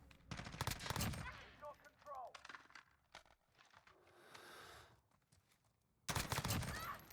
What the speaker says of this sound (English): Even the gun sounds sound good.